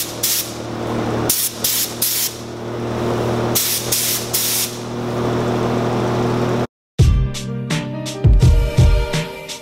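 Spray gun applying clear coat to custom RPF1 wheels: a steady loud hiss broken by short bursts, then cutting off abruptly and giving way to other clattering noise.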